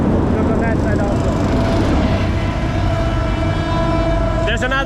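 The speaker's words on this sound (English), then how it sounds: "There's another train coming" A train rumbles past nearby in Sri Lanka, a steady low roar with faint squealing tones, ending in a brief high metallic screech.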